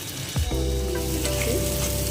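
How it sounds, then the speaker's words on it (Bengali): Chopped onions sizzle and crackle in hot oil in a pan, with a brief stir partway through and a steady close frying hiss throughout. "পেঁয়াজগুলি একটু নাড়াচাড়া করে নিয়েছি। হালকা হালকা করে একটু ভাজা হবে।"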